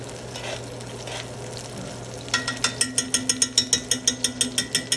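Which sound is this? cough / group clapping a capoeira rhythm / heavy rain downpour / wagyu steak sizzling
wagyu steak sizzling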